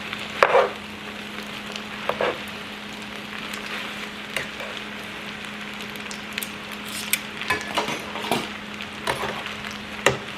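Tagliatelle being tossed and mixed in a hot pan: continuous frying sizzle under a low steady hum, with scattered scrapes and clattering bursts as the pasta is turned, close by, with no talk.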